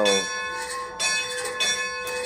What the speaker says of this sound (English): Here you see me ringing the bell,